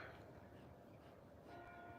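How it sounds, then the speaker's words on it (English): A church bell rings faintly in the distance over a steady hum of background noise. "Oh, we got the church bells."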